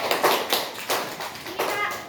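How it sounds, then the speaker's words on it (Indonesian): A few students in a classroom clap in a handful of scattered bursts, close by and uneven, with short gaps between them. "Tepuk tangan buat Kak Uli."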